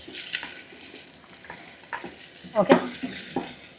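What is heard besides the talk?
onions frying in palm oil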